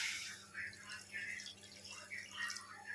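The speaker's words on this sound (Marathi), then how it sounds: "आता आपण याच्या आतमध्ये ॲड करणार आहे 1 ग्लास पाणी" Water pouring from a glass into a pan of roasted semolina (rava) while making a simple breakfast dish; a soft, steady trickle and splash with faint dripping, close and quiet, no voices.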